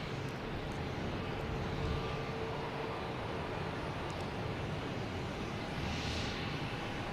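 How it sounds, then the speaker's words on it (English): JetBlue airliner taking off at Boston Logan Airport, a faint, distant steady engine roar that holds evenly throughout with no talking. "We have the JetBlue taking off, and behind that we have a JetBlue coming in from San Francisco on A321."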